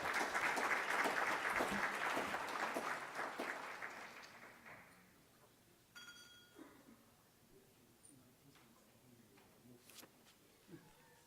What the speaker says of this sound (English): You can still give him a round of applause.